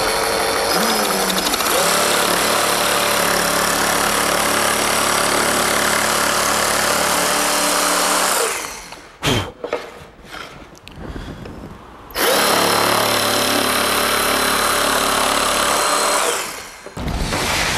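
A loud power tool trims the overhanging part of a wood piece against a template with a steady, high whine. It drops out partway through, leaving a few clunks and handling noises, then starts up again briefly before stopping.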